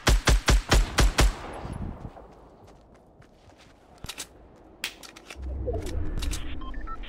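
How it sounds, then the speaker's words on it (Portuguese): Rapid burst of about six loud gunshots in the video game Fortnite, followed by scattered single shots and clicks, then a low rumble toward the end. "deu um tiro pra caramba nele"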